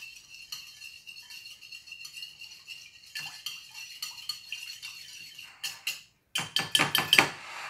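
Pancake batter whisked in a bowl, quick clinking strokes of utensil against the bowl, faint and steady at first, then louder, sharper bursts of rapid beating near the end, no voices.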